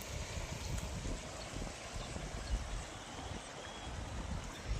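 Rain-swollen water rushes steadily along a stream near a small waterfall in the morning countryside, a continuous faint wash of broadband noise with no voices.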